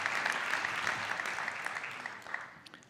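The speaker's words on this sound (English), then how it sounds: "let's give him a round of applause" A round of applause from the audience at a Global Citizen event, a full, dense clapping wash that holds steady and then tapers off slightly toward the end.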